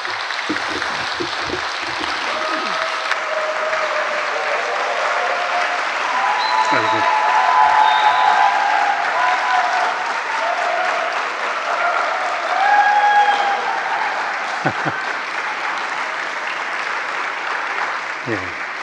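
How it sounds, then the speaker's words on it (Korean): A church congregation in Daegu applauds its pastor during a Lord's Day worship service, with long, steady, full-room clapping that runs throughout while a voice speaks intermittently over it. "박수 한번 보내주시기 바랍니다"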